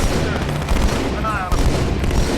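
Dense, sustained gunfire from the video game Halo, with overlapping bursts and a heavy rattling fusillade throughout, loud and close, with voices faintly mixed in.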